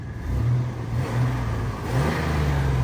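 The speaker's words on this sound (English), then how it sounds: "I'll give it a little rev here for you guys" A Blazer engine revs in three swells, each climbing and easing off over a low idle rumble, close and fairly loud with no talking.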